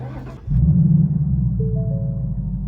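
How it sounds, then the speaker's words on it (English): A 2018-2019 Ford Mustang GT engine cranks and catches, settling into a loud, deep idle rumble that holds steady throughout. "So let's fire up this car."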